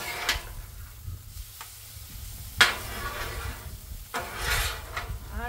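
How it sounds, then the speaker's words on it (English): Spatula scraping and stirring hamburger, onions, jalapenos and chili seasonings on a Blackstone griddle, with steady sizzling and a few sharp metallic scrapes standing out, close and fairly loud, no talking. "So now all we're going to do is go ahead and mix all of our chili seasonings."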